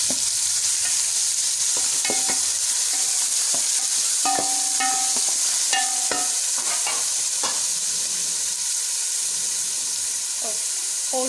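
Meat frying with garlic, onion and tomato sizzles steadily in a pan while a spoon scrapes and clinks in irregular stirring strokes, close up and with no talking.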